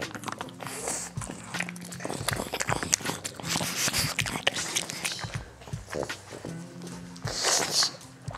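Dogs crunching and chewing on pieces of cucumber, moist irregular bites and munching up close, with soft talking in the room now and then.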